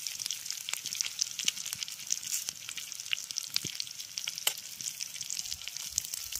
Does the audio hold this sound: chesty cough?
no